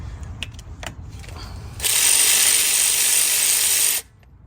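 Ratchet loosening a brake caliper bolt on a Honda Pilot during a front brake pad and rotor job: a loud, steady burst of clicking for about two seconds, near, with quieter rustling and taps beforehand and no talk.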